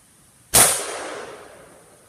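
A single sharp crack from a power-tuned .357 Recluse air rifle sounds close and loud after a quiet moment, then trails off in a ringing, decaying echo over about a second and a half.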